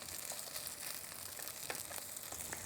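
A tuna pancake (chamchijeon) fries in a pan just after being flipped golden brown, giving a faint, steady sizzling hiss dotted with small crackling pops.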